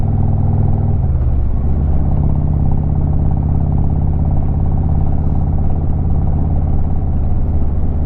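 A truck passes on a narrow back-country road, a loud, steady low engine rumble with rolling road noise that swells early and then holds close by, with no talking.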